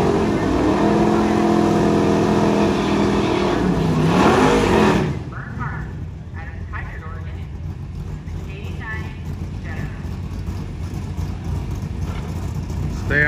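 A Jetta and a Corvette race in a shifter class at the Hot Rod Nationals, engines loud and droning together before easing off, with a commentator talking over the steady race noise.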